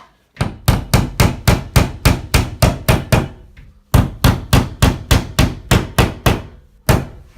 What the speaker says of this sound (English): Obviously, I'm going to hammer them in.